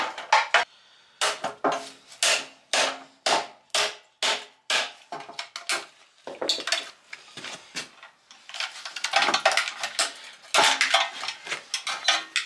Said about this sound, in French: je viens de mettre un coup de marteau dessus